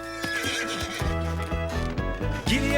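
A horse whinnies loudly over a rhythmic clip-clop of hooves, close and clear in a short cartoon-style cowboy scene.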